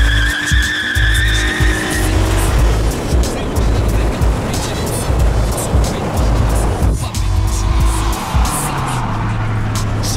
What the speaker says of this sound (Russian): Динамика очень сильно ощущается в машине, она буксует.